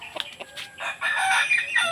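A native labuyo rooster crows nearby in a single drawn-out call, preceded by a few short clucks.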